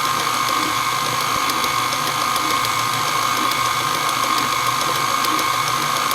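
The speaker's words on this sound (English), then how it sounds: "So I'm just going to let that mix for a little bit." A hand mixer runs steadily through Duncan Hines lemon box cake batter, a continuous whirring, rattling mechanical drone that stays even and close for the whole stretch with no talking.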